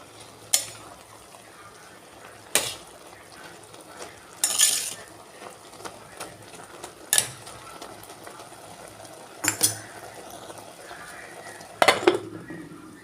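Keerai greens being turned in a pan, a soft low frying hiss punctuated by about six sharp metallic clacks of a spoon striking the pan, close up and without speech.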